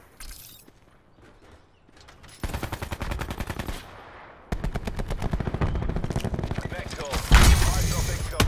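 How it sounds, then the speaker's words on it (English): Bursts of automatic gunfire from Call of Duty Black Ops 4 Blackout, starting after a quiet opening and getting louder with rapid repeated shots, under talk from a player. "I shot that dude, I smacked him, and I shot him again."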